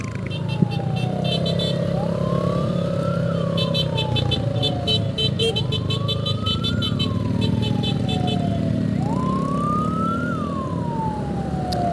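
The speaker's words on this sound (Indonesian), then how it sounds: "ada ambulan" An ambulance siren wails in repeated rising and falling sweeps as it passes along a road near a stopped car at a red light, steady and moderately loud over traffic rumble.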